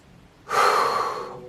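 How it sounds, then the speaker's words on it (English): A single deep breath drawn in close to the microphone, a breathy rush that begins abruptly, holds for nearly a second and then slowly fades, alone without speech. "right now let's take a deep breath"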